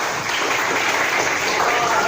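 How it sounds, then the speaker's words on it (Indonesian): A class of students claps for a classmate during a teaching lesson: dense, steady applause from many hands fills the whole stretch at an even, fairly loud level, with no voices over it. "Boleh tepuk tangan"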